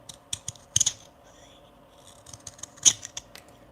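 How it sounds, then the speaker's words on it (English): Knife or blade cutting into olive wood during hand carving, heard as several short, crisp scraping cuts in scattered bursts, close and fairly quiet, with a louder stroke near the end. "I hope you find it satisfying with the sounds of cutting."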